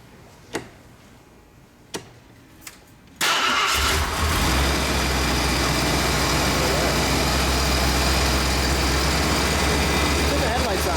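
Engine of a 1974 Bricklin SV-1 cranking over after a few clicks, then catching into a loud, steady idle close by, with voices in the background.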